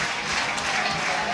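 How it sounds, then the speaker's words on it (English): A football crowd at full time applauds and cheers in a steady, dense wash of clapping throughout, broad and continuous with no break. "Jack Ross getting fantastic cheers from the crowd there"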